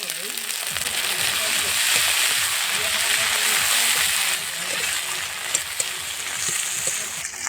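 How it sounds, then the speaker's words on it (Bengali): Chopped tomato tipped into a pan of frying onion, ginger and garlic, giving a loud, continuous close sizzle with steady crackling and occasional stirring scrapes throughout. "এখন কুচিয়ে রেখেছি টমেটোটা এই যে টমেটো কুচানোটা দিয়ে দেবো"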